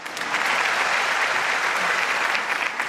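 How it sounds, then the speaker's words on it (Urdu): An audience bursts into sustained applause at a tribute program honoring war heroes, a dense, even clapping that holds strongly for several seconds before easing slightly. "آپ کی بھرپور تالیوں میں ان کو رخصت کرنا چاہیں گے"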